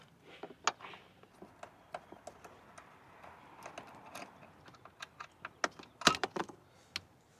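A small supplied 10mm socket driver backs a bolt out of the driver-side A-pillar grab handle mount on a 4th-gen Toyota Tacoma, giving a run of close, sharp ticks and clicks at an uneven pace, with a louder clatter near the end.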